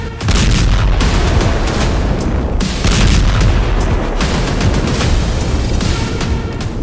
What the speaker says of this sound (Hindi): इनको ऐसे ऐसे बमों से लैस किया गया है। जिनसे ऐसे धमाके हो रहे हैं